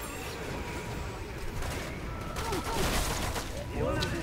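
Dense, continuous crackle of rapid gunfire and blasts from Lost Planet 2, with bursts that swell and fade while a voice talks over the action.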